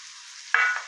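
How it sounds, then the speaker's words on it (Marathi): Chopped cabbage drops into hot oil with fried green chillies, garlic and curry leaves, triggering a sudden close sizzling burst after a moment of faint hiss. "आता आपण हा कट केलेला कोबी टाकून घ्यायचा आहे"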